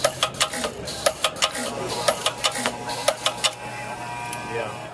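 Duro Dyne FPP5 bulk-feed unit on an MF12 pinspotter welding pins to sheet metal, producing a fast, regular series of sharp mechanical clacks that run steadily for several seconds and then stop.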